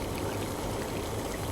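Liquid poured steadily into a homemade bottle volcano, a continuous close splashing gush with no talk over it.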